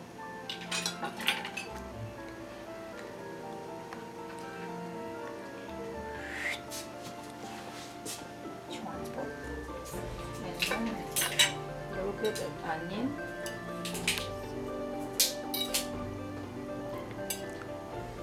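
Cooked beef liver with onion being cut on a plate, producing repeated clinks and scrapes of cutlery against the dish, close and fairly sharp, in irregular bursts.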